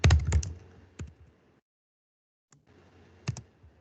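A short flurry of computer keyboard taps opens the moment, followed by a few isolated clicks, a silent gap, then two more sharp keystrokes, all quiet and close.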